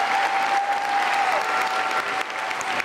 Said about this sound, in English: let's give our third graders another round of applause